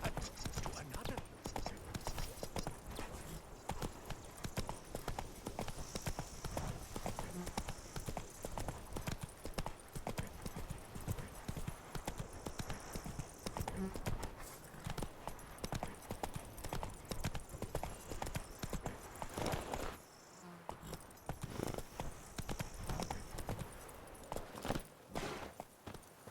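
Horse hooves clip-clop at a steady walking rhythm throughout in the Witcher 3 video game, loud and continuous, with a brief lull near the end before the hoofbeats resume.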